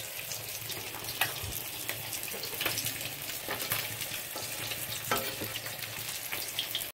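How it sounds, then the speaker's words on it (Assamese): Fish sizzles steadily as it fries in a pan on a home kitchen stove, a continuous soft crackle with faint clinks of a utensil stirring, with no talk over it. "এতিয়া মাছটো ভজা হৈ গৈছে ভাজি আছোঁ"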